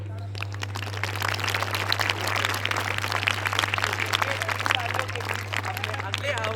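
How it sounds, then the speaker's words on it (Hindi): A school audience at a convent school in Nainital claps and cheers for a children's street play, the crowd noise building and staying busy with chatter, a constant low electrical hum running underneath. "आप सभी से गुजारिश है कि आप अपनी तालियों की गड़गड़ाहट से बच्चों का उत्साहवर्धन करते रहिए।"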